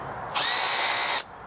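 An IKEA power drill runs in one steady, loud burst of a little under a second, with a whining motor tone that starts and stops abruptly. No voices are heard.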